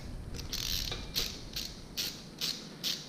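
A ratchet wrench loosens a bolt on a Yamaha Warrior XV1700 motorcycle engine, giving a run of quick, evenly spaced clicking bursts, close and fairly quiet over a low background hum.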